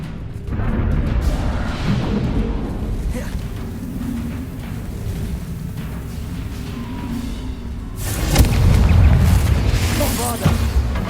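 Confringo fire spells in Hogwarts Legacy go off as loud, booming blasts, a dense rumbling barrage that swells sharply near the end, mixed with game effects and voices.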